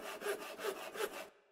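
Crafting sound effect from the Minecraft GT New Horizons modpack: three rhythmic back-and-forth wood sawing strokes, close and clear, then cut off abruptly.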